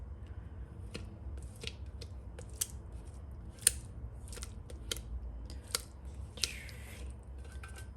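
Onions being scraped down in a cooking pot, a series of sharp, irregular metallic scrapes and clicks from a utensil, close and fairly quiet against a low background hum.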